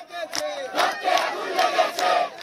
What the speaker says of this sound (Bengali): যাত্রাবাড়িতে অসহযোগ আন্দোলনের ডাকে সকালেই জড়ো হন আন্দোলনকারীরা, দিতে থাকেন নানা স্লোগান